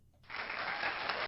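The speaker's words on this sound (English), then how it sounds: "I needed that applause." A burst of crowd applause used as a podcast sound effect starts abruptly and keeps going as dense, steady clapping, played alone without talk.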